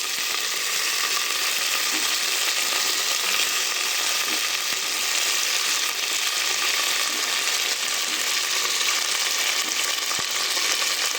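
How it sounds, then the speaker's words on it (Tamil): Onions sautéing in hot oil with mint and coriander leaves, a steady dense sizzle that holds at an even, close level throughout with no talking. "வெங்காயம் சேர்த்துட்டு இதை நல்லா வதக்கிடலாம்"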